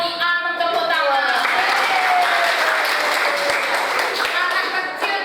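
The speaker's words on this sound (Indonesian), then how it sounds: "Anak tepuk tangan." A group of children clapping in a classroom, dense continuous applause for about five seconds, close and loud, with some voices mixed into the clapping.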